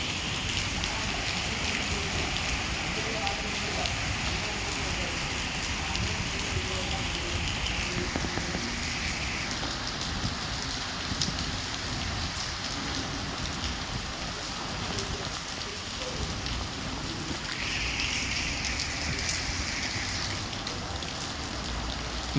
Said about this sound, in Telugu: ఇంకా పడుతుంది వర్షం